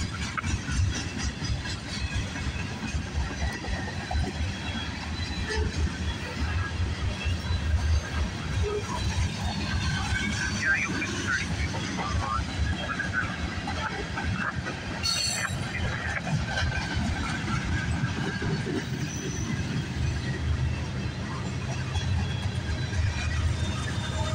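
A CN freight train rolls past at night with a CP distributed-power locomotive on the rear, a continuous loud rumble of wheels with squealing and clatter throughout, people talking faintly underneath.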